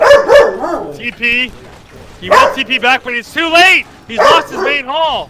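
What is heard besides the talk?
dog barking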